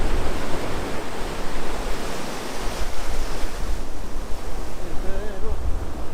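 Surf breaking on the first shore break of a K'gari beach, a steady loud wash of rolling waves close by, with wind buffeting the microphone throughout.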